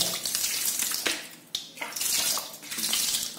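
Water is poured into a clogged TOTO American Standard seated toilet that will not flush, splashing and gushing in two close bursts with a brief gap between them.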